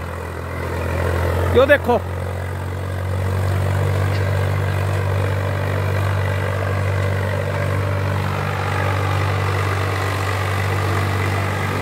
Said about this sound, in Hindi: भाई कमाल है, ट्रैक्टर पे बिल्कुल कोई लोड नहीं किसी प्रकार का भी, छोटा ट्रैक्टर है दोस्तों